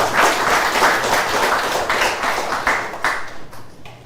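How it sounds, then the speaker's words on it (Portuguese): An audience applauds a director at an economic investment event in Timor-Leste, a dense burst of clapping that holds steady for several seconds, then thins out and fades. "tinha aplauso para senhor diretor"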